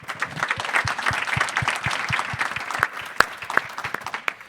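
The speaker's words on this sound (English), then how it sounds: "Another round of applause for our panel." Applause for a panel at a live-streamed investors' conference: a room full of people clapping steadily, with individual claps standing out near the end as it thins.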